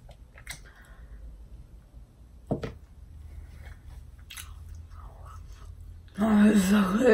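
Taco Bell fries chewed close to the mic, with soft, sparse squishy bites and mouth noises, then a loud, dense crunching burst near the end.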